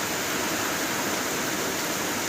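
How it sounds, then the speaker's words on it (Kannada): Heavy monsoon rain pours in Ankola while floodwater fills the ground in front of a house, making a dense, steady, close roar of broadband hiss with no break and no voices. "ಮಳೆ ಕೂಡ ಹೆವಿ ರೇಂಜಲ್ಲಿ ಆಗ್ತಿದೆ."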